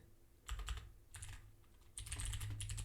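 Quiet bursts of typing on a computer keyboard, three short clusters of rapid key clicks close to the microphone, with no talking.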